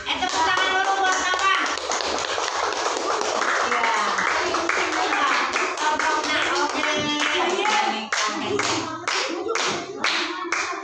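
A classroom group claps hands together in a steady, dense burst that lasts throughout, loud and close, with a few voices mixed in.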